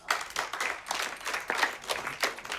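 Guests clap at a wedding party, a modest scattered round of hand claps with an uneven rhythm, fairly close and moderately loud, with no voices over it.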